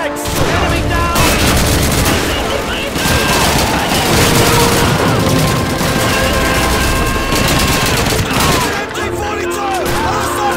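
Sustained MG-42 machine gun fire in the Call of Duty 2 World War II shooter, dense rapid bursts over a loud battlefield din of other gunfire and explosions, with shouted voices mixed in throughout.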